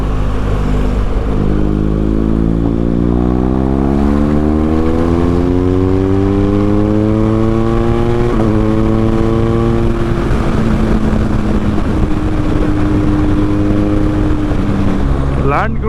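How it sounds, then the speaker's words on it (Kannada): A BMW K1600 GT motorcycle is ridden with its exhaust humming loud and close, the engine note rising and falling through the gear changes. Its tone shifts at several points as the bike keeps moving. "ಎಕ್ಸಾಸ್ಟ್ ಮಾತ್ರ ಅಲ್ಟಿಯಾಗಿ ಕೇಳಿಸ್ತಿದೆ."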